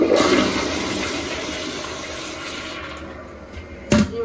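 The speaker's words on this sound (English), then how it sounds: "this is an American Standard. And I'm going to give you a test flush" An American Standard toilet in a hotel room gives a test flush: a loud rushing gush of water that gradually fades to a quieter trickle and refill, then ends with a short clunk.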